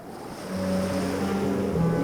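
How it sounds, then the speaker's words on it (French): Rough ocean surf and gusting wind, with a sustained broadband roar of waves that swells after the first half-second, plus faint tonal hums from a boat or yacht on open sea. "Le vent souffle comme un phoque."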